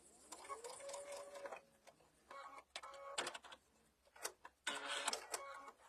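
A sewing machine stitches binding onto a mug bag in short, quiet bursts of rapid clatter, separated by pauses and handling clicks.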